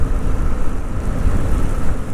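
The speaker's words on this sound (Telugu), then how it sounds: "ఇప్పుడు మళ్ళీ వర్షం పడుతుంది." Rain falls steadily during a monsoon bike trip around Lonavala, a dense, continuous wash of noise with heavy low wind rumble buffeting the microphone throughout.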